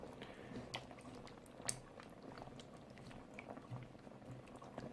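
Thai butternut squash soup with coconut milk simmering in a pot, with soft, irregular bubbling and popping and faint liquid squelches, close but quiet, with no voices.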